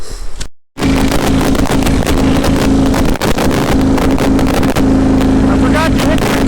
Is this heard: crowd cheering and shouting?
no